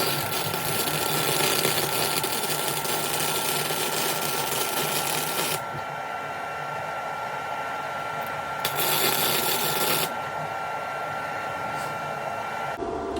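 A welding attempt on metal that burns a hole straight through, giving a loud, steady crackling hiss that runs unbroken, drops out briefly, then flares again for a short burst before cutting off.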